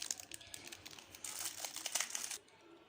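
A plastic bag crinkles and rustles close by as a toy airport bus is pulled out of it, in a quick burst of crackling that settles after a couple of seconds.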